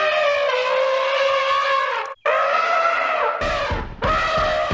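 Henry the steam engine's brakes screeching hard as his driver stops for a missing circus elephant near a tunnel, a loud sustained metallic squeal broken by a brief gap and a rough grinding burst near the end.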